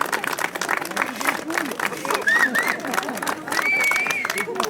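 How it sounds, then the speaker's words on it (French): Spectators at a winter rowing regatta in Le Coudray-Montceaux applaud loudly and steadily, with sharp whistles rising above the clapping and a murmur of crowd noise throughout. "il faut vraiment les saluer, les applaudir, mais vraiment très très fort"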